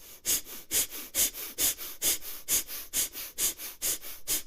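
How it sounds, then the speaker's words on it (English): Rapid yogic breath of fire during a Kundalini class, about a dozen quick, sharp, evenly spaced nasal exhalations per four seconds, close and steady with no talking. "Breath of fire."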